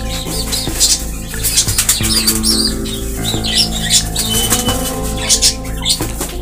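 Pigeons and Australian doves for sale flap their wings repeatedly and call with chirps and squawks, loud and close, in irregular bursts that go on throughout.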